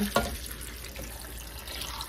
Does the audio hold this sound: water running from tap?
yes